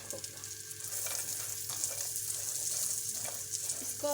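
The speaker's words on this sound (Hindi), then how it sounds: "इसको हम अच्छी तरह से फ्राई कर लेंगे।" Pistachios, dates and chopped coconut frying in a pan for sheer khurma, a steady close sizzle with light stirring scrapes and no talking.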